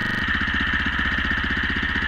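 A Predator 212 small engine idles in a 1968 Harley Model D golf cart, a close, loud, rapid chugging putter with a steady rhythm and no voices.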